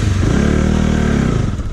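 An Aprilia motorcycle engine runs close by, loud and steady with a throaty idle that swells slightly in the middle, with no one talking over it.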